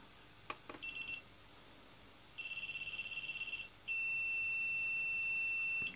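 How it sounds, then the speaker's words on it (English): A standalone Atmega328 bootloader burner using optiLoader gives a few short electronic beeps, then a buzzing pulsed tone, and finally one long steady beep signalling completion, all clear against a quiet background. "Long beep, done."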